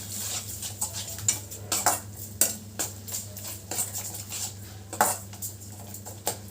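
A spoon stirs a tomato-onion masala gravy with garam masala in a pan, giving repeated close metallic scrapes and clinks in an irregular rhythm over a low steady hum.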